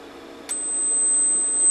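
A piezo driven by a function generator with an 8 kHz, 3-volt peak-to-peak sine wave: a steady, piercing high-pitched tone switches on abruptly and holds unbroken over a faint background hiss.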